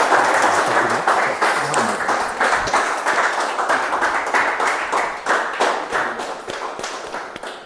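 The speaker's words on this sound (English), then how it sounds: "Now that introduction definitely deserves a much better round of applause for the host for today's meeting" Audience at a Toastmasters club meeting applauds the host, a sustained, steady burst of many hands clapping at close range, gradually thinning toward the end.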